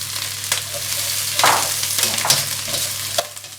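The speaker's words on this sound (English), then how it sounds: "I'm going to quickly stir fry the vegetables first." Vegetables stir fried in a hot oiled wok over a high flame, with a steady sizzle broken by several loud scraping tosses of the spatula, close up and without talk.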